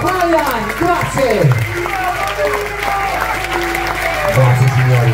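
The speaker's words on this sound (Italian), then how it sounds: "eccoci qua, l'applauso, sì, Donna, Ryan, grazie!" Audience applause at a children's circus show fills the space as a steady crowd clapping under a performer's amplified voice speaking over it.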